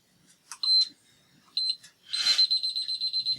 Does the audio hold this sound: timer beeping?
yes